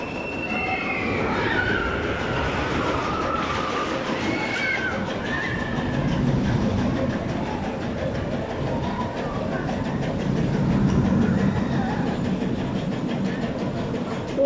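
Roller coaster train at Blackpool Pleasure Beach rumbling continuously along its track, with metallic wheel squeals and rattling rising and falling over about fourteen seconds, loud and fairly close.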